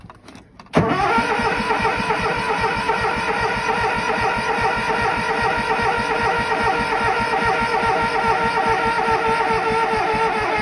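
A snow blower's engine, unused for two months and started with choke and throttle raised, catches abruptly just under a second in, then runs at a steady, loud, even idle for the rest of the clip.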